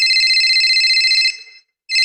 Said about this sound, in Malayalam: അമ്മച്ചിയുടെ ഫോൺ അടിക്കുന്നുണ്ട് കേട്ടോ.